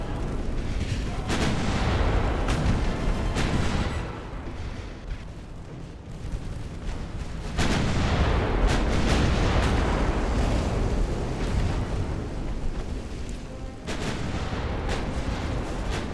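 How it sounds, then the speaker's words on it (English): Secondary naval guns on an 1890-era warship firing in the game Ultimate Admiral: Dreadnoughts, a loud, continuous barrage of booming shots and blasts with sharp repeated bursts layered over rumbling explosions. "Secondary guns just start wailing at him."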